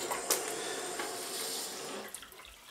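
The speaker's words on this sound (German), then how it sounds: "Den fülle ich jetzt voll mit kaltem Wasser." A bucket filling with cold tap water in a kitchen sink, a steady quiet rush of running water with faint splashes and drips, no voices.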